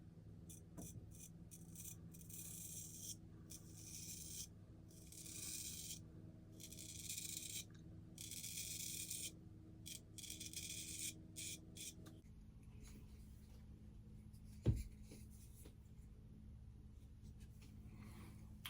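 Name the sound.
shaving with a stainless steel razor blade, first pass with grain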